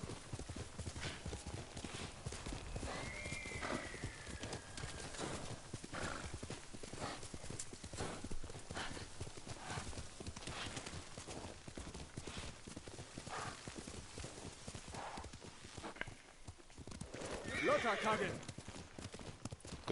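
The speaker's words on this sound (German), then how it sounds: "Gut, dass das Pferd da nicht runterrutscht." Horse hooves clip-clop in a steady rhythm through the Ghost of Tsushima game world, with a whinny early on and another later, while someone talks over much of it.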